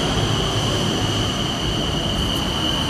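A train moving through Bangkok, Thailand, at night, giving a loud, steady rumble and rolling noise with a faint high whine from the wheels, with no talking.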